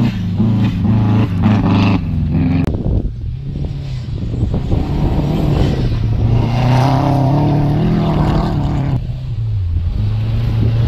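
A Subaru BRZ on a rallycross run, its engine revving hard and climbing through the gears, loud and close throughout, with short breaks between pulls and no talk.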